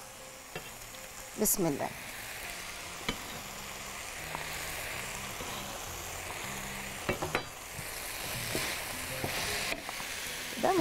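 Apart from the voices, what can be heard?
sautéing mushrooms with chicken in a pan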